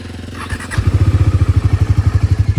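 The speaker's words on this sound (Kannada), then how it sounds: "ಈ ಗಾಡಿ ಕೋಲ್ಡ್ ಸ್ಟಾರ್ಟ್ ಹಾಕ್ಬಿಡ್ತೀನಿ." A motorcycle cold-starts outdoors in a village: a brief starter whir, then the engine catches into a loud, close, rhythmic idle thump that settles into an even beat.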